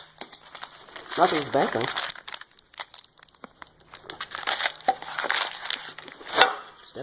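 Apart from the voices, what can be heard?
aluminum foil packing being crumpled and unwrapped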